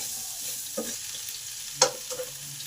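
Potatoes and papaya stirred together in a frying pan, with a low continuous sizzle broken by a few scraping clicks of a spatula, one noticeably louder.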